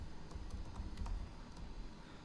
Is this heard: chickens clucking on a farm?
no